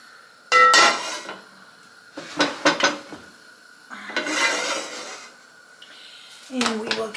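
Partly cooked beef stew meat tipped into a cooking pot for canning, several clattering, scraping bursts of metal and utensil contact in a kitchen, spaced apart, with a voice speaking between them.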